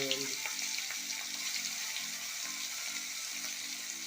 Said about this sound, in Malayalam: കുറച്ച് കരിവേപ്പില ഇട്ട് കൊടുത്തിട്ട് നമുക്ക് മസാല പുരട്ടി വെച്ചേക്കുന്ന കൊഞ്ച് അതിലേക്ക് ഇട്ട് കൊടുക്കാം